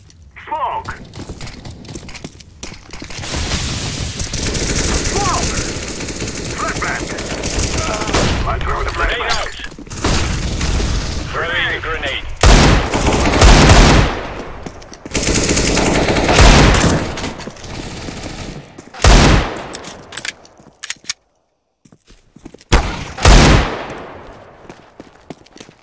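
Gunfire in the video game CS:GO from a Desert Eagle pistol and AWP sniper rifle, loud sharp single shots spaced apart amid bursts of other weapons, game effects and callouts, with voices talking through parts of it.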